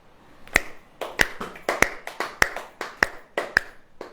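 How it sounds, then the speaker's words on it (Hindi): A demonstration of hand clapping at a church Bible reading, with about seven distinct, crisp claps at a steady, deliberate pace, sounding close and clear with a few softer taps in between. "ऐसे ताली ऐसे बजती है"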